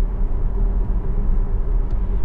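A car driving on Autopilot speeds up along a road, giving a steady, loud low rumble of engine and tyre noise that runs unbroken throughout, with no voices.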